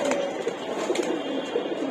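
Racing pigeons coo softly in a loft, a few low, rounded calls repeating over a faint background hum.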